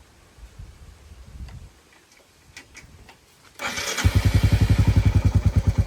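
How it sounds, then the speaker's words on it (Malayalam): A 2024 Royal Enfield Bullet 350 engine fires up after a few seconds of quiet ticking, then settles into a loud, steady thumping idle with evenly spaced pulses close by. "ഞാൻ ജസ്റ്റ് എഞ്ചിൻ ഓണാക്കിയിട്ട് കാണിച്ചു തരാം."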